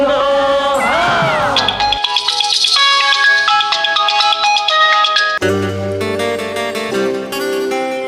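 An incoming-call ringtone plays loud and close on a phone. It runs as a bright electronic melody with a short sliding intro, then repeating tonal phrases that shift partway through, with no voices over it.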